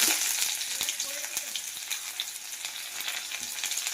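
Chopped onions sizzle and crackle as they go into hot oil with panch phoron and a whole chilli, a steady dense hiss broken by sharp pops, close up with no one talking.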